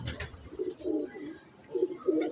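Pigeons coo in a series of soft, low, throaty calls at a fairly close distance, with a few brief higher chirps at the start.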